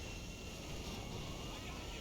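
Airplane engine in the video game GTA 5, a steady, moderately loud broadband roar with a constant hum and no clear changes over the short stretch.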